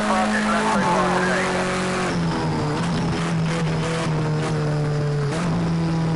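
A touring car racing engine in the video game Project Cars 2 whines and shifts pitch as it accelerates through gears, steady and loud, with a voice talking over it.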